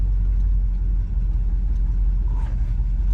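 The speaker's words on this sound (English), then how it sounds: "Today we're driving a 1957 Buick Century." A restored 1957 Buick Century convertible drives along, its engine giving a steady low rumble with road noise, loud and continuous throughout.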